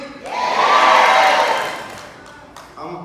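A crowd cheers and shouts at an awards event, a broad swell of voices that rises quickly, peaks loud, then fades back toward the start of talk near the end.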